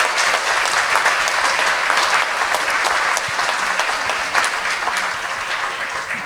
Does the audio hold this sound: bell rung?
no